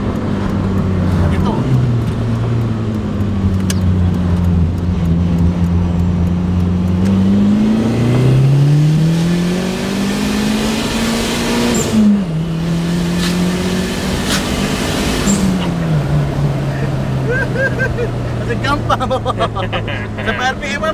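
A Proton Wira GSR engine revs hard to high RPM, its pitch climbing in long rising sweeps, dropping and climbing again, loud and close from inside the car, with people talking over it.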